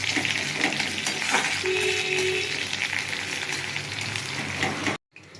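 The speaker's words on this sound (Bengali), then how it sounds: "এবার আমি পেঁয়াজ দেবো। পেঁয়াজটা ভাজা ভাজা হয়ে যায়।" Onions frying in a pan over a cumin tempering give off a steady, dense sizzle that holds at an even level for about five seconds before cutting off abruptly.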